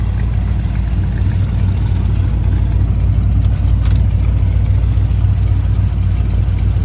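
A 1955 Chevy 210 restomod with a fresh 400-horsepower crate engine idles steadily, a deep, continuous low rumble with no voices over it.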